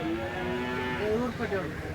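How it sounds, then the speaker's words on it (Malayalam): A deep, drawn-out bull moo with a harmonic, wavering tone rises and falls over two seconds, close and loud, at a livestock market in Malappuram. "നല്ല അടിപൊളി വലിയ കാള"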